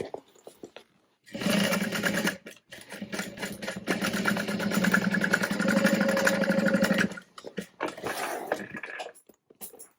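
A sewing machine stitches the side seams of a unisex tote backpack in a long run of close, buzzing stitching, followed by a few short bursts with pauses between.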